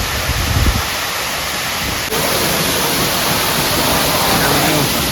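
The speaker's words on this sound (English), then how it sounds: "Looks like they have a big old waterfall." A big waterfall at Disney's Blizzard Beach water park pours in a loud, constant broadband roar, close by and unbroken, with a brief voice near the start.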